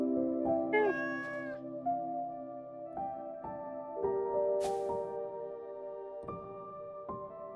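Meowing from a cat in the Stardew Valley game, a short run of bright, tonal mews rising and falling over soft background music, close and clear with no talk.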